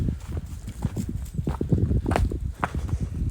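Horse hooves clip-clopping at a steady walk on dry ground in Somerset, close and clear, with light rustling around the steps.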